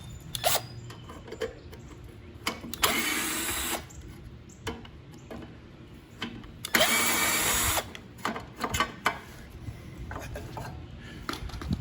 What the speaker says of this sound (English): I'll be using my drill to get this off.